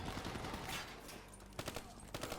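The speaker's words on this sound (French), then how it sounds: "C'est des rafales de 3 balles" Three-round bursts of gunfire in the video game Call of Duty Black Ops 3, short clustered shots cracking over a dense, loud wash of battle noise.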